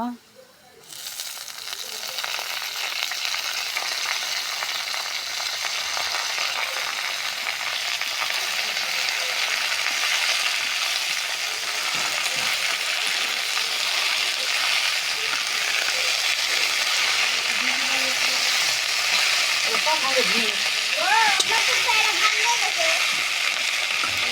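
Potato greens frying in a pan after black cumin seeds have toasted, a dense continuous sizzle with light stirring clatter and occasional clinks throughout.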